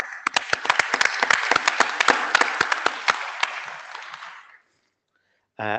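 A large audience applauds at the IETF 121 plenary session. The dense, steady clapping lasts about four and a half seconds, fades out, and is followed by silence and then a voice.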